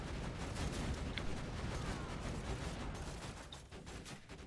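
Dense, continuous gunfire from enemies shooting at Axton's turret in Borderlands 2, a loud steady barrage of overlapping shots with no gaps.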